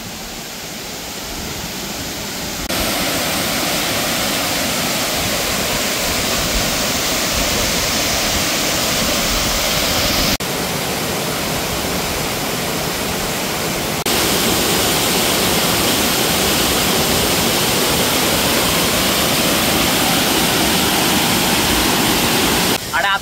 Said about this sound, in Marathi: आता मी धबधब्याच्या एकदम जवळ आलोय आणि ते पाणी जोरात आपटतंय